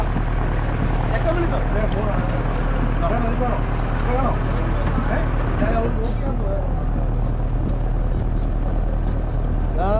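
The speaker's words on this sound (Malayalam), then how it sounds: "ബോട്ടങ്ങനെ തിരിച്ചിട്ട് റിവേഴ്സ് ഗിയർ ഇട്ട് തിരിച്ചിട്ട് നമ്മൾ അങ്ങോട്ട് പോവുകയാണ്" A steady motorboat engine drones throughout as the boat turns in reverse gear at the Karuvatta boat race, with a voice talking over it.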